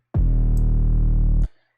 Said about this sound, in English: Right now I'm really just using a very dry 808. It sounds like this.